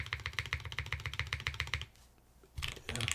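Typing on the Juna mechanical keyboard with a fast, even rhythm of close, moderately loud key clacks, a short pause, then another burst of keystrokes.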